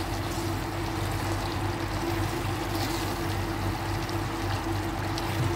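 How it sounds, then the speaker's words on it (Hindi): Half a glass of water pours steadily into potato gravy thickened with besan in a pan, a continuous close splashing stream with a low hum beneath and no talking. "देखिए आधा ग्लास मैं इसमें पानी डाल रही हूँ"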